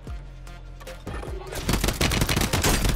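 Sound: shotgun gunfire in Warzone video game

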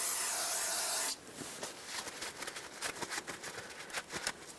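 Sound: spray cleaning residual brake fluid off the brakes

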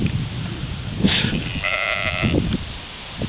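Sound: sheep bleating

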